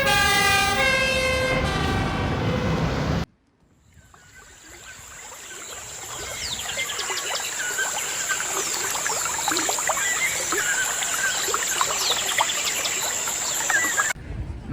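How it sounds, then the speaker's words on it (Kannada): UK fire engine siren on a street in Oxford, England: a thin, steady high tone held over busy outdoor street noise, following a few seconds of music at the start. "ಫೈರ್ ಇಂಜಿನ್ ನೋಡಿ, UK ಫೈರ್ ಇಂಜಿನ್ ಹೆಂಗಿದೆ ಅಂತ."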